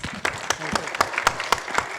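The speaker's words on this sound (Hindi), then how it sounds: "एक बार जोरदार तालियां।" A media crowd at a Bollywood film trailer launch claps in a quick burst, with sharp rhythmic hand strikes standing out over the general applause and faint chatter.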